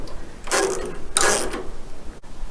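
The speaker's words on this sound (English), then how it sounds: "tighten them up using a 4mm Allen key and a 10mm spanner" Nuts being tightened with a 4mm Allen key and a 10mm spanner during bodywork assembly of a Tillotson T4 Mini, giving two short bursts of close metallic ratcheting and clicking followed by one sharp tick.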